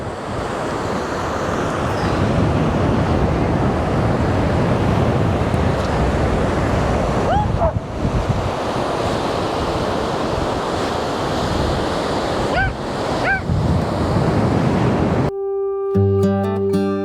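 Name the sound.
ocean waves on a beach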